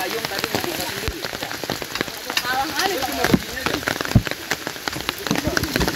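Rain pattering on open umbrellas during a hike on Mount Slamet, a dense, close patter of drops with sharper taps scattered throughout.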